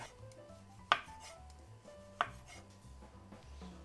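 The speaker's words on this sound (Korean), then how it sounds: "얇게 편을 썰어 주겠습니다." A kitchen knife slices shiitake mushrooms thinly on a cutting board, giving two sharp, distinct board taps about a second apart over quiet room tone.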